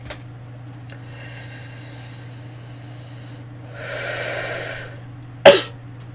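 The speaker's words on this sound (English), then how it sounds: "Sorry about the coughing" Faint room tone carries a soft sniff early, then a raspy breathy burst and a single sharp, loud cough near the end, from a person who is sick with a sore throat.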